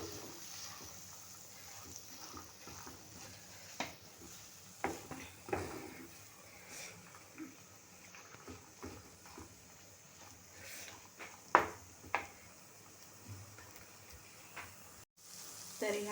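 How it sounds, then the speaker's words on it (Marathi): Boiled peas, cooked with salt and turmeric, being stirred into a frying banana flower bhaji, with soft scraping, stirring and light sizzle in irregular bursts at close range. "तर हे मी वाटाणे आता टाकले."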